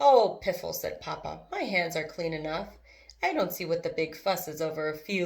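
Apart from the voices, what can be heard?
No distinct noise like a dog, phone or traffic.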